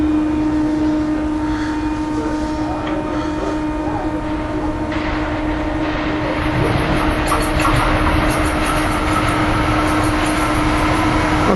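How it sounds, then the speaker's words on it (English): A commuter train pulls into Bryn Mawr station during rush hour, its steady rumble and hum building gradually with rail clatter growing louder in the second half, nearby and continuous. "Colmar Link Belt train or Doylestown bound train coming in"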